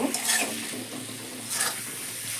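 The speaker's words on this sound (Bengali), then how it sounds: "আলুগুলো দিয়ে দিলাম আলুগুলো দিয়ে একটু কষে নেব" Potatoes fry in a pan for a Bengali fish kalia: a close, soft sizzle with two brief bursts of spatula stirring and scraping.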